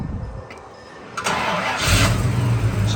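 A 1940 Ford Deluxe two-door coupe street rod with a 351 V8 cranks briefly, fires up loudly and settles into a rumbling idle, heard up close with no talking.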